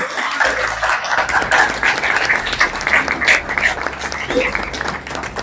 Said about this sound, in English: a very warm welcome and round of applause for our guest of honor, Dr. Nadia Chishti Mujahid